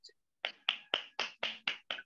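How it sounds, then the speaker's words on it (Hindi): Seven sharp, evenly spaced claps ring out alone after a brief tone, close and distinct rather than a full crowd, greeting two leaders at an online Zoom session. "मैं चाहूंगा हमारे दोनों लीडर्स के लिए एक जोरदार तालियां"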